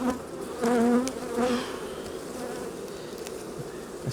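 Honeybees buzz steadily around an open hive during an inspection of a strong colony with honey-packed frames, a continuous close drone with a few louder swells near the start.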